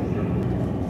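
A C-47 transport aircraft's engines drone steadily inside a night paratrooper drop simulation, a dense continuous low roar filling the whole moment with no break.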